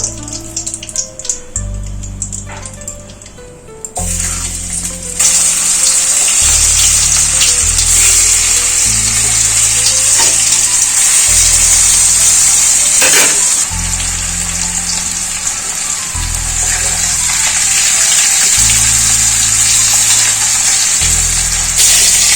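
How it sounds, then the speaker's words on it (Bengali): Boiled potatoes fry in hot oil with a loud, continuous, close sizzle that fills the kitchen, along with a low repeating hum and occasional utensil knocks. "এই তেলেটি সিদ্ধ করা আলুগুলোকে ভেজে নেব"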